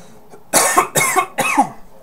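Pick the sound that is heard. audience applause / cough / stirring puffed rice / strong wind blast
cough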